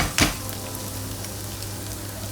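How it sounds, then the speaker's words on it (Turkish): Ground meat sautéing in a pan for mantı filling, a continuous close sizzle with one brief scrape near the start, no speech. "Evet, kıymalarımız kavruldu."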